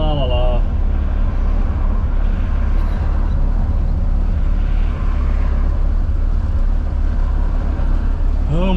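Dense road traffic with many cars streams past from inside a moving vehicle, a steady loud roar of engines and tyres with no breaks, and a brief higher tone near the start and end.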